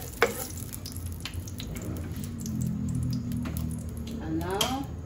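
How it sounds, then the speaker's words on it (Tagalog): Garlic sautéing in oil in a pan for a chicken vegetable stir fry, a soft steady sizzle that swells slightly midway, heard close with faint clinks and some quiet voice sounds. "now, saute the garlic"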